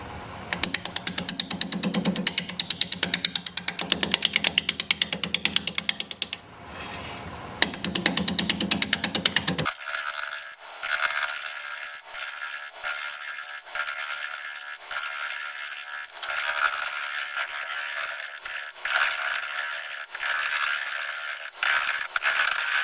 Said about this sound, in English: I'll be using a 5/8 inch bowl gouge, mask, and face shield on.